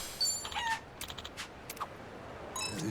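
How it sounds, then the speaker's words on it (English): Chickens in Like A Dragon: Infinite Wealth give short clucks and squawks, scattered and fairly faint against a quiet background, with no talking. "These chickens remind me of the one I had before."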